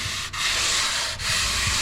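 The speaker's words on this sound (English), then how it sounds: "I'll probably spend an hour in here just basically trim sanding everything" Hand sanding of spray-in bed liner surfaces with 180 grit sandpaper, a steady close scratchy rubbing that runs continuously with two brief breaks in the strokes.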